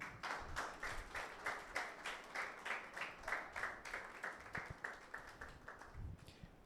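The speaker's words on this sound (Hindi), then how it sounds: "यीशु के लिए तालियां बजाएं।" A church congregation at a Sunday meeting claps together in a steady rhythmic beat, about two claps per second, somewhat faint and heard alone.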